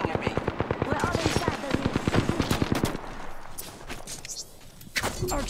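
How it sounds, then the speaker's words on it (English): Enemy gunfire in the Apex Legends video game: a fast, evenly spaced automatic burst lasting about three seconds, followed by a few scattered single shots, all fairly loud and close. "The enemies are shooting at me."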